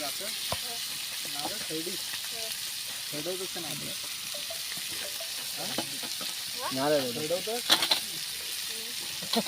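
Chicken frying in hot oil, kaul fry style, in a village kitchen, crackling and sizzling steadily under a voice that talks off and on, with a few sharper pops near the end.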